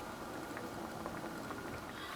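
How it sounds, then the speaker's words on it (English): Spanish rice simmering, close to boiling, in an uncovered pot: a soft, steady bubbling patter with faint pops, low in level and continuous throughout, with no talking. "It has now come up to a simmer, nearly boiling."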